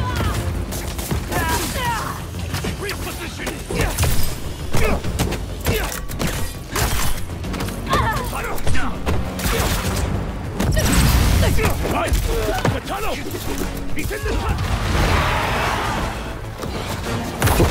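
Spider-Man slashes through webs in the PS5 game Spider-Man 2, a dense run of thuds, crashes and sharp impacts layered with game music and voices speaking.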